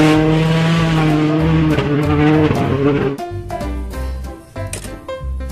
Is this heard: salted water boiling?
no